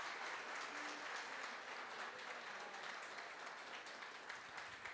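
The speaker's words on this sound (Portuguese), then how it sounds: "Vamos dar um forte aplauso ao Senhor por essas vidas." A church congregation at a Sunday morning service gives sustained applause, a distant, dense roar of many hands blending into a continuous wash at low volume with no distinct individual claps.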